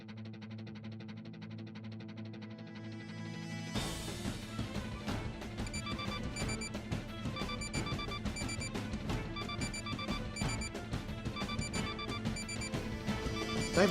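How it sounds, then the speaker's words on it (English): An alarm on a console in the Minecraft video game beeps in a steady repeating pattern, joined after a few seconds by dense, busy rhythmic tones that continue to the end. "there's an alarm going off on the console"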